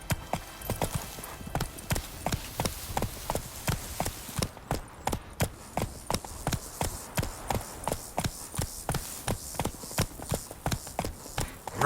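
Roach, a horse in The Witcher 3, gallops at a steady quick rhythm, hoofbeats clopping loud and close, with a brief quieter stretch partway through and no talking.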